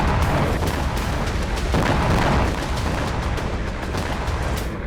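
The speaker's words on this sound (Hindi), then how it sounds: "वहां रुक रुक कर धमाके हो रहे हैं, बारूदी विध्वंस की आवाज सुनाई दे रही है।" Distant booming explosions and crackling blasts rumble continuously near the southern Lebanon border, with several sharper bursts standing out against a dense, noisy background.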